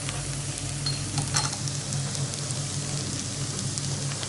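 Cooked rice stirred in a pot, a soft continuous rustle and faint scraping with a brief louder stir near the middle, close and without speech.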